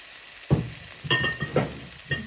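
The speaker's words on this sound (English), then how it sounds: "Give this a little bit of a stir" Potatoes sizzling with onions and garlic in a pan, stirred in several short scraping bursts over a steady soft frying hiss, close and moderately loud.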